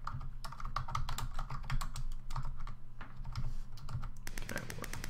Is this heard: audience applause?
no